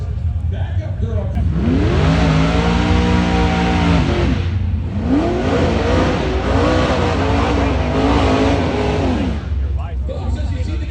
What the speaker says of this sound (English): as you see the Gassers come by